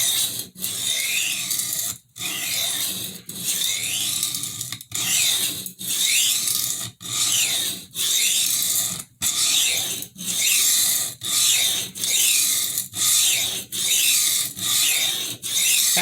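Steady back-and-forth rasping of a kitchen knife's damaged edge being reground to recut its bevel, repeated strokes in a regular rhythm with brief pauses between passes, close and fairly loud.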